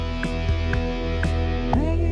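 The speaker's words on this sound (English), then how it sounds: "I came to my senses on the choir, and I switched it out for a nice synth pad" A soft, sustained synth pad for a synth rock song holds a steady chord, with short tonal blips and gliding notes layered on top, all evenly loud.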